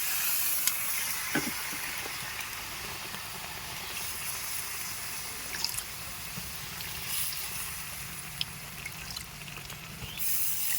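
Water poured into a pan of chicken and potato curry brings a faint, steady hiss and soft trickling sizzle, with a few small clicks and taps over the low background, no voices.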